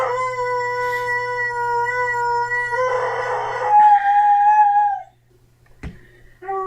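A dog howls in long, drawn-out, wavering tones close by, then the howl tails off, leaving a short quiet gap before a brief sharp sound and another howl begins.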